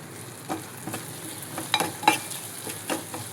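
Curry leaves and green chillies hit hot oil for a prawn curry, giving a close, continuous sizzle with crackling pops and light stirring taps throughout.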